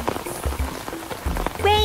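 Rain effect from a Pocoyo weather playset toy, a brief hissing patter under a child-friendly voice, ending in a rising electronic chime.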